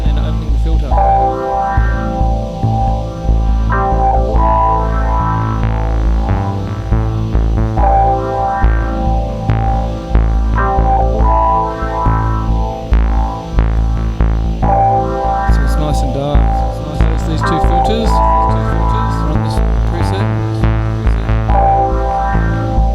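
A buzzy, throbbing synthesizer tone shifts steadily as its filter closes down and opens up again, bright and dense, with a rhythmic pulsing pattern throughout.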